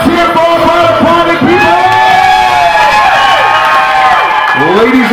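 Wedding reception guests cheer and whoop loudly for the bridal party, a dense, close crowd roar with shouted voices and high excited calls rising over continuous noise throughout.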